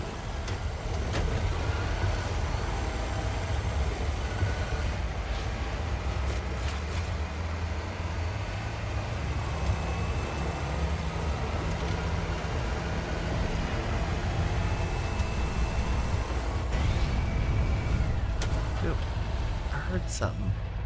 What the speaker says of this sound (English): it's just my truck being loud.